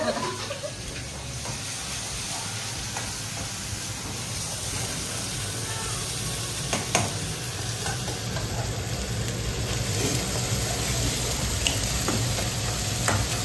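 Pulao rice sizzling and frying in a pan while being stirred, a steady loud hiss with scraping stir strokes throughout, close up and without talk.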